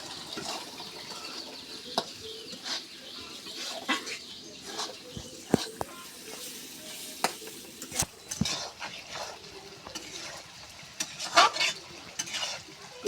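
Spice paste for a beef curry stir-fried in a pan: irregular scraping and stirring clatter of a utensil against the pan over a soft sizzle, with faint background voices.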